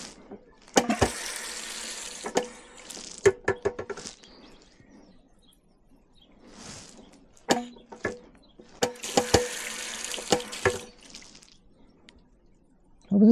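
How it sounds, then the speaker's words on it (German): Outdoor water pump on a hiking trail, its water splashing and gurgling in uneven bursts with clanks and pauses, close by, with a few faint outdoor sounds between. "Und ich stehe vor einer Wasserpumpe, ja."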